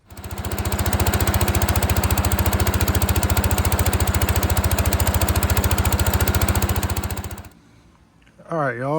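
A barn-find Allis Chalmers 712S garden tractor engine runs loud and close with a rapid, steady chugging beat for about seven seconds, then cuts off abruptly, and someone speaks briefly afterward.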